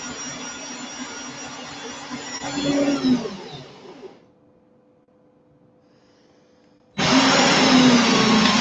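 A drill spins while twisting wire for a craft coil, giving a steady, fairly loud whirring motor drone that rises and strains before cutting off, then a pause with faint hum, then the drill whirs up again just as loudly.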